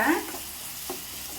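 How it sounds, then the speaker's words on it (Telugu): Ginger garlic paste frying with salt, chili powder and turmeric, a soft steady sizzle with one or two quick spatula scrapes, brief and fairly quiet. "అల్లం వెల్లుల్లి పేస్ట్ వేసాం కదండి, ఆ తర్వాత ఉప్పు, కారం, పసుపు వేసి బాగా ఫ్రై చేస్తున్నాను"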